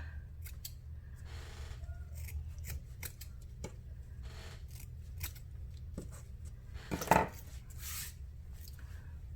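Scissors trimming junk journal tassel threads, a run of quick crisp snips close by, some in fast pairs, with one louder rustle and snip partway through; no voices.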